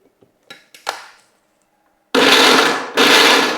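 A mixer grinder runs loud in two bursts, grinding soybeans coarsely, after a few light knocks and clatter as the beans go into the jar.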